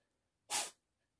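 A single short, sharp human sneeze sounds close by in an otherwise quiet room.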